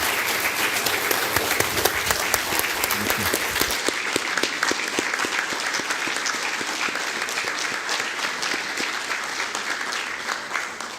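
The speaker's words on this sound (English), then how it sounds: "I would like to invite you again to give a round of applause to our Prime Minister, Mr. Aliko Dangote." An audience at a fireside chat applauds the Prime Minister, loud dense clapping from a large crowd that thins slightly after the first few seconds and then continues steadily to the end.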